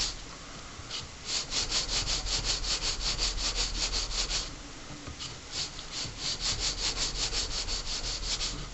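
The back of a handmade pendant is sanded by hand against sandpaper, giving close rhythmic rasping strokes in two bursts separated by a brief pause. No one speaks.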